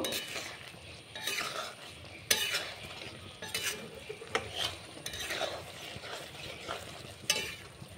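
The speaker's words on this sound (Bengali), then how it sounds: "খুব ভালো করে মিশিয়ে নেব।" A spoon stirs a cornflour slurry into chili chicken gravy in a pan, making repeated scraping and clinking strokes over a soft sizzle. It is close and fairly quiet, with no voices.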